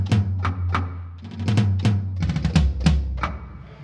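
Rim hits on an Artesia A-50 electronic drum kit, a quick run of bright, cracking strikes over a sustained low tom-like tone, close and loud, mostly in fast irregular clusters.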